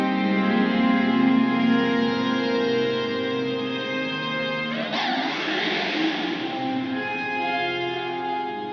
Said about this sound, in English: Here's full mix so you can really hear what the reverb's doing and what the ensemble's doing.